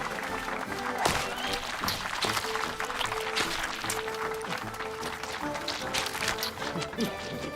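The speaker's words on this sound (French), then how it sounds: "Une bonne main d'applaudissements pour les encourager!" An audience applauds and cheers on contestants in a donut-eating contest, a busy mix of clapping, shouts and crowd noise running steadily under lively voices.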